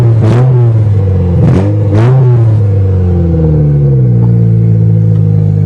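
An old Toyota GTS engine being cranked and revved, loud close rumble that swells in three quick revs early on, then settles into a steady idle.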